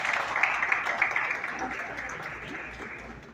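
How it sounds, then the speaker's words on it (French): An audience at a youth government investiture ceremony in Haiti applauds, with a broad wash of clapping from a crowd that slowly fades, and a voice is faintly heard beneath it. "Toujours sous vos applaudissements"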